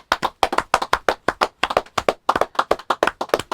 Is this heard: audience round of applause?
yes